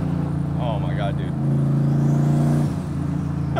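A single-turbo 1999 Ford Mustang GT engine revs up and holds a strong droning note before dropping off, with excited voices talking over it.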